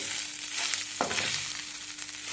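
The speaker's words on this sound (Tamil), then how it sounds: "நம்ம வடித்து வச்சுருக்கிற சாதத்தை இது கூட கொட்டி கலந்துடலாம் நல்லா கலந்து விட்டுட்டு" Cooked rice is stirred into fried garlic in a frying pan for garlic rice, giving a soft continuous sizzle with a brief scraping stir partway through.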